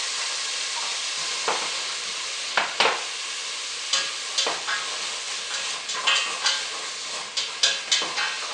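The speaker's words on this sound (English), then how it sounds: "When you saute the carrot with garlic and oil, make the soup color beautiful" Carrots sizzle and hiss with garlic in hot oil in a pan for carrot and potato soup, a steady close fry broken by scattered stirring scrapes and pops throughout.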